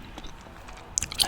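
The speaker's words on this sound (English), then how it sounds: "This gum is so damn chewy." Close, soft gum chewing with faint wet clicks and squishes, building into a few sharper smacks near the end, quiet and alone without talk.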